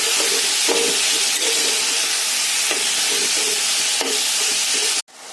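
Cabbage stir-fries in a pan of well-cooked spice masala with a continuous hissing sizzle. Rhythmic scraping strokes of a spatula repeat roughly every second before the sound cuts off abruptly near the end.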